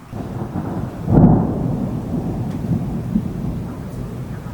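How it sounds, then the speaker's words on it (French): Violent late-summer thunderstorm in Bordeaux: a close rumble of thunder swells and fades over a steady wash of rain, with softer rumbling continuing beneath the downpour. "on va filmer l'orage qui me fonce surtout dessus"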